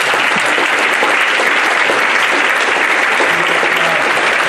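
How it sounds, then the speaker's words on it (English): Sustained, loud crowd applause fills a public safety meeting in Jersey City as the audience honors Pastor Joshua and City Line Church, steady and dense throughout with no pauses. "give a big round of applause to Pastor Joshua and City Line Church"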